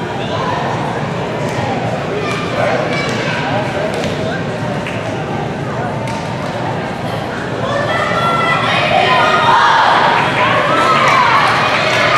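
The Spring Valley crowd roars at a sectional championship high school basketball game, a loud, dense wash of shouting that swells toward the end, with a commentator talking over it.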